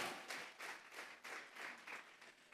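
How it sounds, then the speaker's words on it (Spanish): Faint, steady applause from a church congregation during a Spanish-language worship service, the clapping pulsing in a loose rhythm throughout. "Vamos a regalarle ofrenda de palmas al Dios de la gloria"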